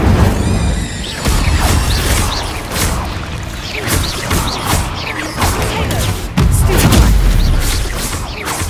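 Incendio fire spell cast in Hogwarts Legacy, a loud, dense whooshing burst of flame with crashing, booming game effects running throughout.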